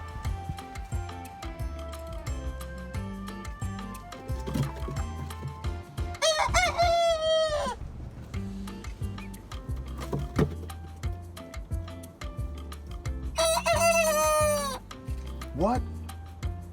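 A rooster crows twice, loud and close, over a steady mix of other farm birds and background chatter.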